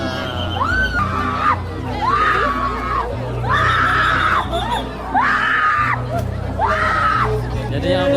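Repeated loud, wavering screams from a Balinese temple trance dance at Pura Dalem Balingkang, Kintamani, rising and falling in five long cries over a murmuring crowd.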